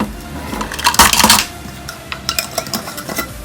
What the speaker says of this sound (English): I'm just going to give it a light whisk to get it mixed up